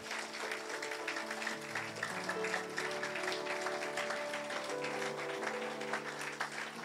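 A church congregation claps in praise of the Lord Jesus, a steady distant applause continuing throughout, with sustained organ or keyboard chords playing underneath.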